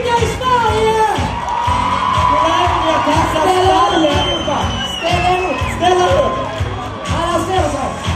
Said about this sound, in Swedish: En stor applåd till er!